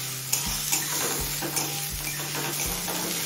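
Two medium chopped onions fry in a pan under a loud, steady sizzle, with rhythmic scraping strokes of a spatula against the pan about every second and no voices.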